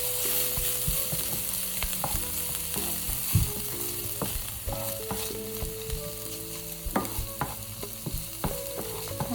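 Garlic sizzles steadily in a hot pan, a close, dense crackle broken by frequent scraping knocks of a utensil stirring.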